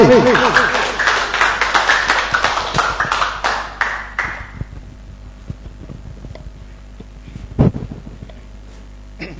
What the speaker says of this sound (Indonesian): Tepuk tangan untuk Pak Ali